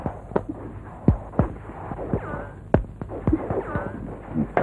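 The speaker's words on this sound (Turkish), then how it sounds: "Silah sesleri!" A series of sharp gunshots cracks out irregularly, some close and loud, others quieter, over a low background hum.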